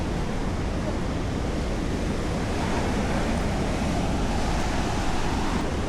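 Constant roar of ocean surf at the shore, a dense steady wash of waves with wind noise on the microphone, no talking.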